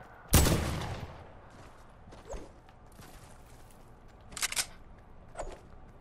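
Gunfire in the video game Fortnite: one loud, close shot followed by a few quieter, scattered reports spaced seconds apart.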